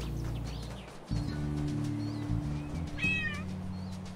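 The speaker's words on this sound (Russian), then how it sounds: "Левая кнопка мыши, мы просто мяукаем." A cat meows several times in the video game Paws, short distinct mews over a humming game soundscape, with faint bird chirps in the background.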